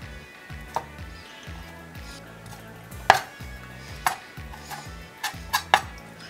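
A knife slicing giant surf clam for sashimi on a cutting board, with scattered sharp taps and soft cuts at irregular intervals over a quiet, looping low background hum; nobody talks.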